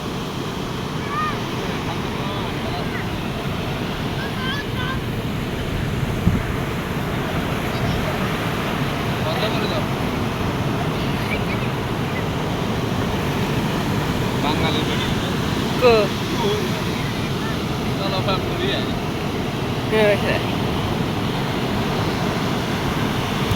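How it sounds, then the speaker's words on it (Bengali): Sea waves wash onto the sandy shore at Daris beach in Oman, a steady broadband surf roar with wind buffeting the microphone throughout, and a few faint brief sounds rising above it. "এটা হচ্ছে দারির সাগর পাড়।"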